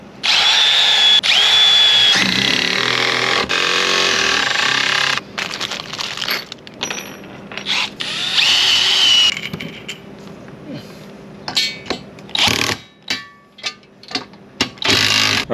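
A power drill drives screws into 4x4 timbers of a mini-split air conditioner stand, with several whining bursts close by, then shorter stop-start pulses toward the end.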